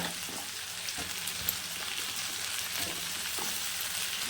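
Potatoes fry alongside tomato, onion, garlic paste and green chilli in a pan, giving a steady close sizzle with occasional light stirring clicks and no voices.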